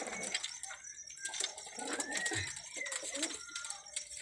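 A pair of teddy pigeons coo in low, rounded bursts close by, joined by a few higher chirps and light rustling, with a little speech mixed in.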